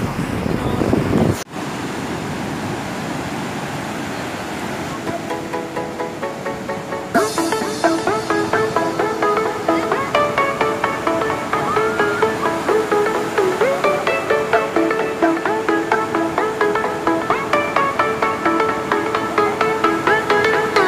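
Sea waves wash onto a beach in a steady, loud surge, with wind buffeting the microphone and a brief break near the start.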